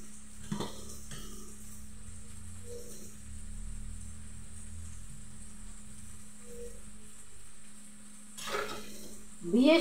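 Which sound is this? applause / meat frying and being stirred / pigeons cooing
meat frying and being stirred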